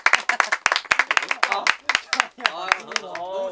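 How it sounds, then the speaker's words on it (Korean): A small group of friends claps hands in a quick burst of uneven, sharp claps at close range, followed by chatter and laughter as people talk. "박수 한 번만 해줘"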